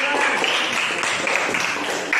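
Classroom of students clapping hands together in a short burst of steady, fairly loud applause, with some voices mixed in.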